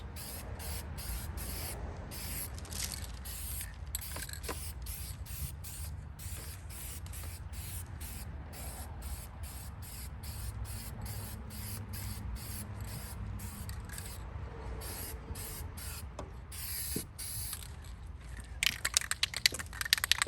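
Rust-Oleum hammered spray paint hisses steadily from an aerosol can as light coats go onto truck fenders, a continuous close spray running for most of the stretch with a louder burst near the end.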